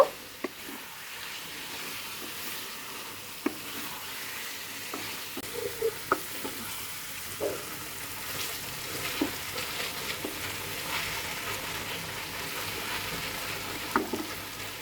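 Chicken pieces fry with spice paste in a pan under a low, steady sizzle, broken by frequent scraping and clacking strokes as the mixture is stirred and turned.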